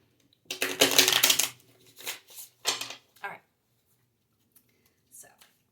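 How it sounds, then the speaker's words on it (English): A deck of tarot cards being shuffled up close, several bursts of riffling and sliding card noise, the first long and loud, then shorter strokes, ending with a quiet tap. "one more shuffle"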